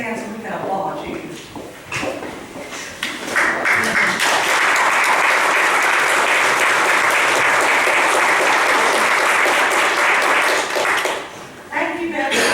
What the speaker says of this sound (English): If you are a veteran, would you please stand so we can applaud you?